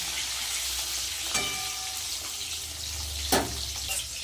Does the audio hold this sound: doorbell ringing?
no